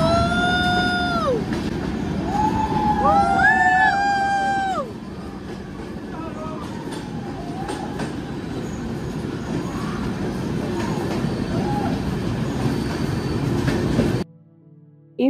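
The Amravati Express train rolls along the rails on the route toward Goa, a continuous rumbling clatter with rising and falling whistle-like tones early on, people's voices audible over the steady running noise.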